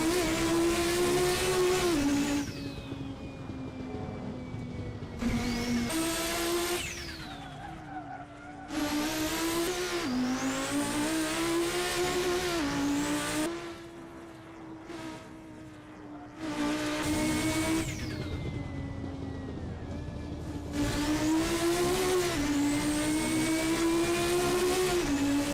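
A brutal race car of nearly 1,200 brake horsepower screams through Assetto Corsa, its engine revving hard and dropping in pitch between repeated gear changes, loud and alone.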